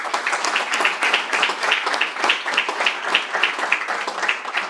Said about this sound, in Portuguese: Para eles, uma salva de palmas e muitos parabéns por estes 115 anos.